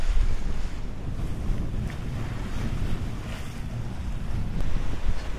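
Sailboat running downwind in strong wind and waves near Mykonos: steady wind rush buffeting the microphone over sloshing, splashing water along the hull, continuous and close with gusty swells.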